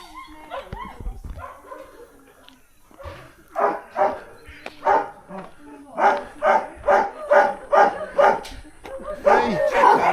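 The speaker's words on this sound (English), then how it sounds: "they've just had their dinner, so the barking has been pretty good" Several dogs at a dog shelter on Skiathos bark in a run of loud, rhythmic bursts after their dinner, starting sparse and building into steady repeated barking, with a person talking briefly near the start.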